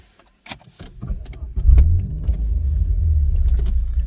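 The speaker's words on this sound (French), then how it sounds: "Renault Sport, démarrage." Renault Clio RS engine starting at close range: a few faint clicks, then the cranking catch and a rising rumble that settles into a steady, loud idle.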